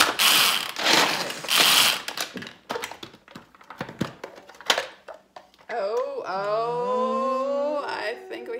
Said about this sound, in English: We're going to do three cranks.